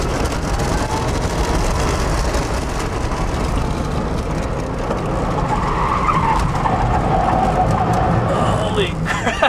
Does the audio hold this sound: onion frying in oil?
no